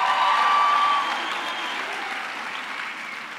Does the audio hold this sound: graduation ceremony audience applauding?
yes